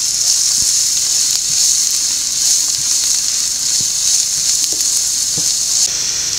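Mutton with black pepper powder sautés in a pan, giving a loud, steady sizzling hiss broken by occasional soft stirring taps.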